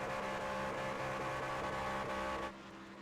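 A truck doing burnouts in the racing game iRacing: a steady, loud engine roar with a tonal whine that holds for a couple of seconds, then drops to a quieter level.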